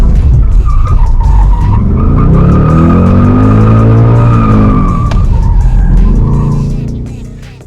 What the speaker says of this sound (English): despite getting a few good skids in